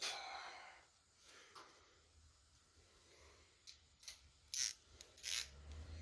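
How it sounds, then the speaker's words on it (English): A ratchet wrench clicks on the engine bolts of a 1987 Kawasaki KX250 two-stroke motorcycle, close and quiet at first, then rising into a few louder bursts of ratcheting near the end, with no speech. "torque them to spec here"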